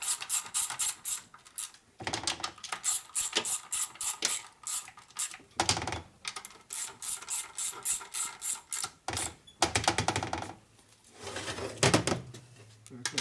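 A wrench tightens motor mount bolts on a 1961 Harley-Davidson Sportster XLCH during a transmission and motor rebuild. Rapid close ratcheting clicks come in repeated bursts, with short pauses between strokes.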